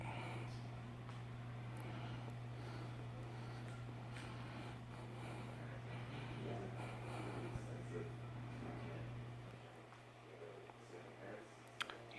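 A 52-inch Canarm Contempora ceiling fan spinning down, giving a steady low hum with a faint whoosh that fades out near the end, while people talk quietly nearby.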